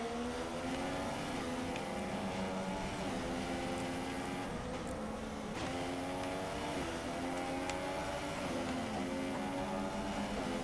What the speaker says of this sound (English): I feel like there's a lot of aeroplanes going past in this game.